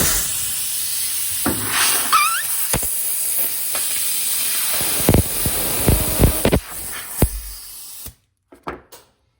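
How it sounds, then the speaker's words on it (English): Compressed air blasting through a BMW E30 brake hard line while it is cleaned: a loud, steady close hiss that runs for about eight seconds, then cuts off, followed by a few brief faint knocks. "the air line's gonna get hooked up, so turn the volume down if you got headphones on"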